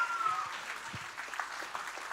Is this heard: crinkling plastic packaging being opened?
no